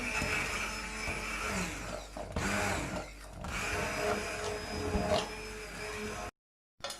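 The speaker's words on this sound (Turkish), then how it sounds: "Şöyle Blender'dan geçirmek istiyorum." Blender puréeing cooked broccoli into soup, a loud, continuous close whir that dips briefly before cutting off abruptly near the end.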